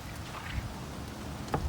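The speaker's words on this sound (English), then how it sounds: "We sure need rain here in SoCal." Monsoon rain falls in Los Angeles, a soft, even patter of drops on surfaces heard up close, steady and fairly faint for a brief moment.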